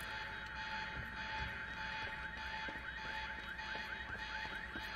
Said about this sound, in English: The alarm's not gonna make my life any easier.